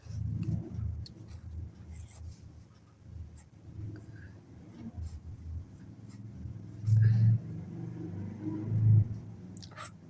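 Pen scratching across paper in soft, intermittent strokes, close and faint, with someone talking over the writing and some low rumbling bumps.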